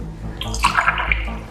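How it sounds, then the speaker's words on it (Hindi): Water sloshes and spills over the rim of a glass, a short burst of close splashes and drips with no one speaking. "पानी भी छलक रहा है"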